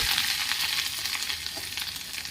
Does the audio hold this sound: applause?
no